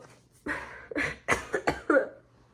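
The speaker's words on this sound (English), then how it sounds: "literally am coughing because I'm so in distress about this" Several dry coughs in quick succession, close and fairly loud, with short pauses between them and a faint low hum underneath.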